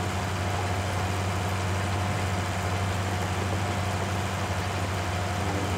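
A tractor engine runs with a power harrow attached on a farm, a loud, steady low drone with a constant mechanical hum and no change in pace, close by with no talking.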